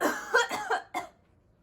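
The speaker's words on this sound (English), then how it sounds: "I have a cough right now" Several quick, raspy coughs in a close, moderately loud burst, the last one separated by a short pause before silence.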